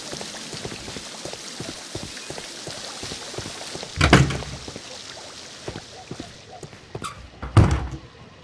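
Doors in a bathhouse in a Sherlock Holmes detective video game, heard as two distinct heavy thunks with a sliding rattle, about three seconds apart, over a steady hiss resembling rain or steam.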